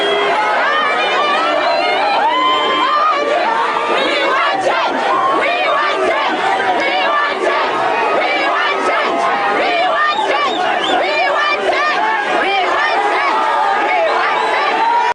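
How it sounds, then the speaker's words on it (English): A dense crowd outside a polling station in Zambia's 2021 general election cheers and shouts continuously for a candidate, loud and close throughout, a constant wall of overlapping voices. "Security around him had to squeeze through the crowd that cheered him on as he walked into the polling"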